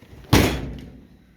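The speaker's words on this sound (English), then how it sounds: "And so that when the door closes now," A Ford Explorer body door on an F100 chassis swap shuts with one close, loud thud, its short solid impact trailing off quickly into quiet.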